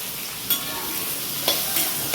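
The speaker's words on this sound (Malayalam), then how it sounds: "നന്നായി ഒന്ന് വഴറ്റിയെടുക്കാം." Finely chopped ginger and bird's eye chillies sauté in a hot pan with a steady, close sizzle, broken by a couple of sharp scrapes of a stirring spoon; no talking.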